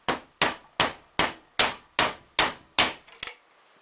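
A hammer taps a power steering cylinder part from a 1967 Mustang eight times in steady, evenly spaced metallic strikes, each ringing briefly, close and loud, with a quick rattle at the end.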